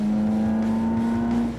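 An import car's engine hums at a steady 3,000 rpm in fourth gear at about 80 mph, a loud sustained drone with a strong tonal note, heard from the cabin and easing slightly at the end.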